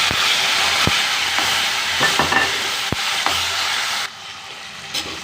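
Onions and tomatoes sauté in hot oil in a pan for a sundakkai (turkey berry) kuzhambu, a steady broadband sizzle with a few sharp clicks from stirring, dropping quieter near the end.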